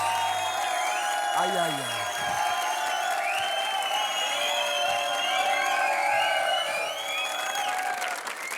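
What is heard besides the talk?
audience applause and cheering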